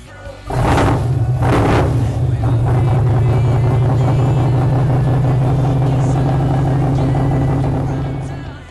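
THE40 engine, freshly fitted with new batteries, fires up and revs as gasoline is fed, two sharp surges of throttle followed by a loud, steady rumbling idle that runs close up and fades at the end.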